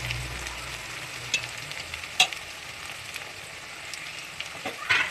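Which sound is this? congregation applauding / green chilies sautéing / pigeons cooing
green chilies sautéing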